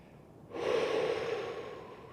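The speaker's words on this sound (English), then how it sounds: "Breathing as deeply as possible." One long, deep breath during a stretch begins abruptly after a brief quiet, then drawn out as an airy, close-up rush of air that slowly fades.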